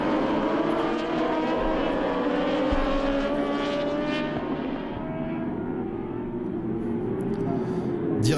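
Honda and Yamaha superbikes racing at Winton Raceway in an Australasian Superbike round, with loud, continuous high-revving engine howls and rising and falling pitch as the bikes pass, steady throughout with no talk.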